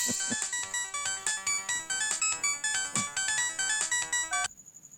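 Mobile phone ringtone in a Hindi-dubbed film scene, a bright repeating electronic melody in quick pulses, loud and close, stopping abruptly near the end.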